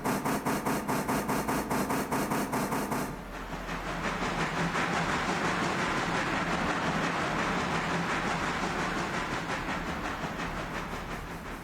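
A train carrying out a shunting manoeuvre, first a regular rhythmic pulsing, then a shift to a steady rumbling clatter of railcars with a faint hiss, heard fairly close with no talk.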